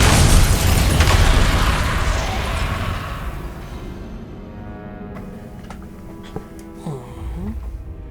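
Incendio fire spells and magical combat in Hogwarts Legacy, a loud, dense burst of crackling blasts at the start that fades over a few seconds into quieter scattered spell pops and rumbling effects.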